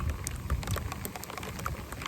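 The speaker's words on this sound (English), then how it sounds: "that rain came out of nowhere." Rain suddenly falling outdoors after a gentle yoga session: a steady hiss of rain with scattered drops and patters, moderately loud and close, with no voices.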